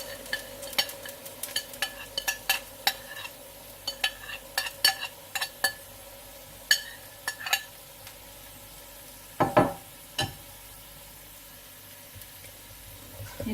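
Vegetables and whole spices fry in oil in a pot for chicken pulao, with a low sizzle under frequent sharp clicks and scrapes of stirring, close and moderately quiet.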